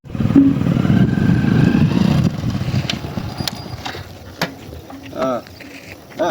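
A motorcycle engine revving and running roughly at first, a steady loud low rumble that fades into quieter clatter and brief voices toward the end.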